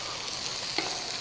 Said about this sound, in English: We're going to stir those in and let them cook a minute or two